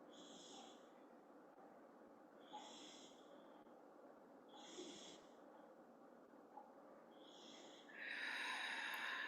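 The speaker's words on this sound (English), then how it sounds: "I don't know if you guys can hear in the background my pup snoring underneath my chair" A dog snoring under a chair, soft rhythmic snorting breaths repeating about every two seconds, faint and nearby in a quiet room, with a louder hiss of noise at the end.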